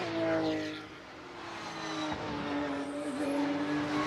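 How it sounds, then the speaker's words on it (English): GT race cars, including a Porsche, at the Hungaroring in a GT Open Cup Europe race roar past with rising and falling engine whine and shifting pitch at moderate distance. "Over the curbs goes the 44 car of Zanini."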